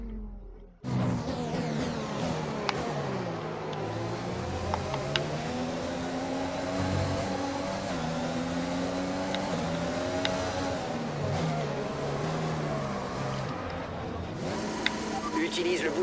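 Red Bull Formula 1 car in the F1 2020 video game screams through gears, its engine pitch rising and dropping as it accelerates and brakes around the circuit, steady and loud with brief clicks.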